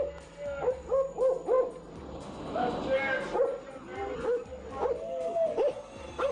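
A police German shepherd barks and yips repeatedly with short whimpers during a search of a burgled drugstore, sharp close barks in irregular bursts over background noise.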